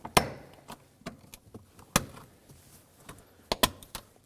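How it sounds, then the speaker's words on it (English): Plastic seat trim being pried out of an Acura MDX interior, a series of sharp cracks and snaps at irregular intervals, close and moderately loud, no voices. "Moving over to the other side of the seat, we're gonna be removing this trim. Simply just grab it on both sides and pry it out."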